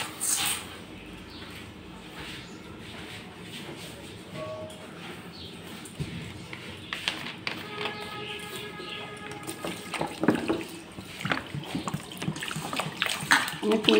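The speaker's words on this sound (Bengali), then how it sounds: "আমি এখন জল দিয়ে ভালো করে ধুয়ে নেবো চালটা" Rice for a Kushtia-style dal chitano boiled rice is rinsed by hand in water, with intermittent sloshing and splashing that grows busier toward the end, under a person talking.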